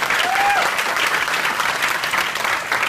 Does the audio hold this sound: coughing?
no